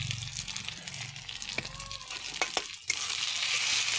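Chili, turmeric, coriander and cumin powders are scraped and stirred through vegetables in a frying pan, a low sizzle punctuated by a few utensil clinks and scrapes before a louder wash of steady hiss near the end.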